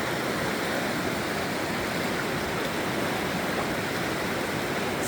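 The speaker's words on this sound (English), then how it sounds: "I like the sound of the river." A loud, steady roar of rushing river water fills everything, a constant broad whoosh with no pauses or voices.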